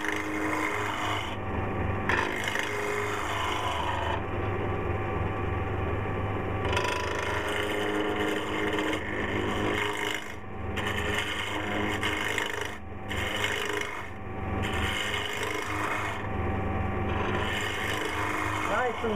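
A gouge riding the bevel cuts spinning wood on a wood-turning lathe, giving a steady rasping, scraping hiss over the constant motor hum, close and continuous with brief dips in the cut.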